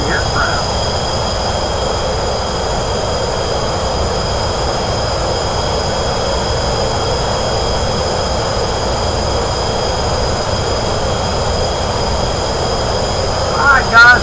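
Steady, even jet engine roar inside a climbing airliner cabin, a broad unbroken rumble holding level throughout with a brief louder rise near the end.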